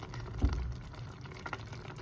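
Water is poured into a pot of spaghetti sauce with carrots, giving a soft, brief splash followed by quiet liquid sounds in a kitchen, with no talking.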